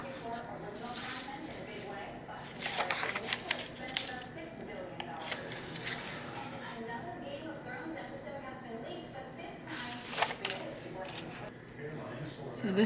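An X-Acto knife slices through box cardboard on a cutting sheet, making scattered close scratchy scraping strokes in short bursts, under a quiet steady background and a speaking voice.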